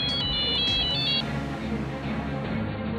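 A phone ringtone plays a bright, repeating electronic melody for about a second, over a steady bed of background music, then stops.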